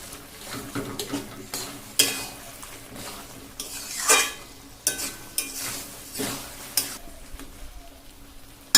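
Taro stem curry (kochur datar ghonto) sizzles in a pan over a gas flame, with frequent clanking, scraping strokes of a metal spoon against the pan in an uneven rhythm over a soft frying hiss.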